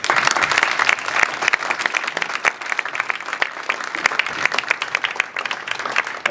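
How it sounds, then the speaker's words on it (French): A crowd claps loudly and steadily at an inauguration speech, a dense, sustained roar of many hands from start to finish with no talking over it. "j'aimerais qu'on les applaudisse encore très fort"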